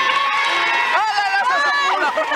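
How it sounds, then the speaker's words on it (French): Studio audience of a French children's TV show cheering and applauding after a kids' game, loud and sustained with excited high-pitched children's voices shouting over the clapping. "Bravo, on peut les applaudir, c'était formidable."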